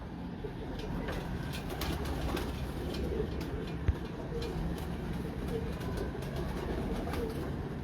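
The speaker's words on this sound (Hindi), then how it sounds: "दोस्तों ये कबूतर है 18 नंबर, मेन बड़ा कबूतर 18 नंबर।" A large breeder pigeon coos softly over a steady outdoor background, with a single faint click partway through and someone talking nearby.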